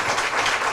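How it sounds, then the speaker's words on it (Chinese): A lecture audience gives a brief burst of warm applause, dense clapping that is moderately loud and close, with no talk over it. "所以我们就热烈的掌声"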